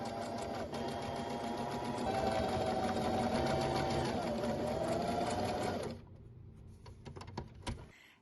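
A home sewing machine stitches a toddler's apron with a steady, fast mechanical whir for about six seconds, then stops, leaving quieter clicks and handling noises.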